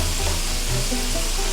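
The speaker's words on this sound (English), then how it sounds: "As you break up the meat, all that seasoning is going to get mixed in there. Just give it a nice stir." Seasoned ground meat for a homemade Taco Bell-style taco filling sizzles and crackles steadily in a hot pan as it is stirred and broken up, close and continuous with no talking.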